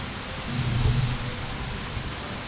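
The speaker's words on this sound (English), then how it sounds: "It's raining a lot." Steady rain in the video game Alwa's Awakening forms a continuous broadband hiss, with a low rumbling swell around the first second, playing alone without talk.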